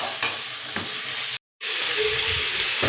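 Shredded cabbage, beans and carrot for veg momos sauté noisily in hot oil, a steady close sizzle with a brief total silence in the middle before the frying hiss resumes.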